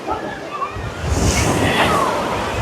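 Water surges and sloshes in a water park wave pool, a broad rushing wash of waves building louder after a moment, with splashy, crowded ambience and no clear talk.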